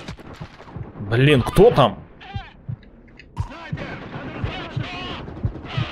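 Gunfire in the multiplayer shooter Caliber: a few sharp shots and bursts scattered through the stretch, mixed with game effects, while someone talks over it.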